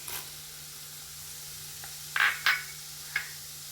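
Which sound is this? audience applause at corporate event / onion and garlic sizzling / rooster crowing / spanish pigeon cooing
onion and garlic sizzling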